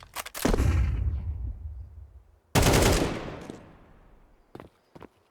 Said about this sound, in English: Easy shots for Apoc Dud.